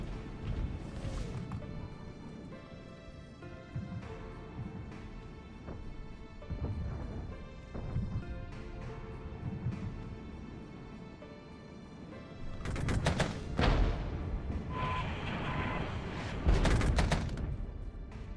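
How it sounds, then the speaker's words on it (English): A smoke barrage and infantry gunfire in the Regiments war game crackle as scattered shots and thuds, with a louder cluster of sharp cracks and booms near the end. "So let's do the smoke barrage."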